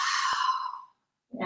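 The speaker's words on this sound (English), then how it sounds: "Inhale here, exhale." A person breathes out in one long, soft sigh while holding an arm and shoulder stretch, then starts the next breath faintly after a short silence.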